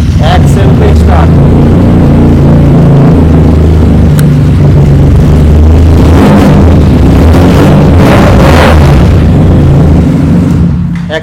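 A used 300 motorcycle at a bike dealership starts and settles into a loud, steady engine rumble that runs the whole time, with voices talking over it.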